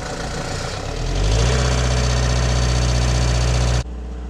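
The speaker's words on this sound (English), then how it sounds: "We got the compressor started" An air compressor for a sandblasting pot starts up and runs with a loud, steady low hum and rattle that builds after a second, then drops sharply near the end as the load changes.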